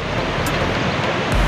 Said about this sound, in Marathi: नदीला पाणी मोठं आहे